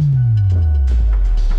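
A synthesized tone following the sine of an exponential of minus time, a loud low pitch sliding steadily downward and settling into a deep drone.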